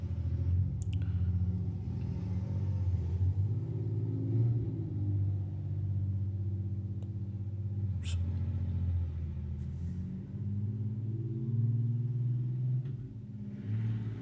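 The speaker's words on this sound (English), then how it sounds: "Bro, is this car gonna fucking pass" A car passing on a road, heard as a steady low rumble that swells and eases over several seconds, with a few faint clicks on top.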